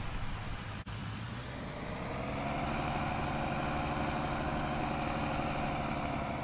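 Steady drone of an Allis Chalmers 8070 tractor engine running in PTO mode at work RPM, heavy and continuous, with a brief dip near the start and a slight rise in level after.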